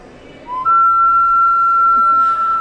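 A Peruvian anthropomorphic ceramic whistling vessel gives a pure, steady whistle that enters with a short rising slide, holds a single clear pitch and then shifts slightly near the end.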